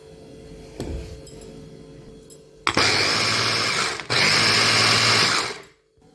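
Electric mixer beating a basbousa batter with corn flour and baking powder in a bowl, two loud bursts of steady high whirring separated by a short gap, with a few clinks before it starts.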